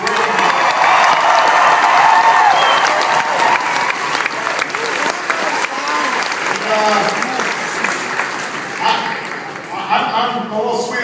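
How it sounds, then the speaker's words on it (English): A crowd at a campaign rally for President Obama in Grand Junction, Colorado, applauding and cheering steadily and loudly for the whole stretch, with a voice speaking over the noise near the end. "please give Deanne a big round of applause."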